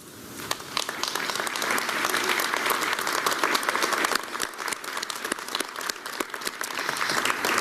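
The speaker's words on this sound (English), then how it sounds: "please stand up and let's give them a round of applause" A crowd at a State of the City address in Pueblo applauds city employees with sustained, dense clapping that holds steady at a full level for the whole stretch, with no speech over it.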